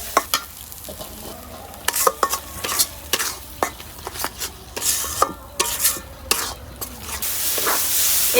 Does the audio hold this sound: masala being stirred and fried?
yes